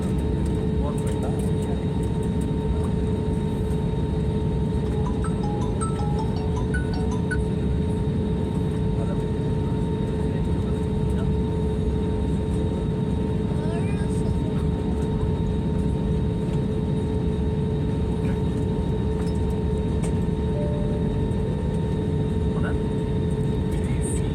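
Inside an IndiGo Airlines airplane during takeoff, a steady, loud low engine roar fills the cabin with constant broadband rumble and faint tonal hum throughout.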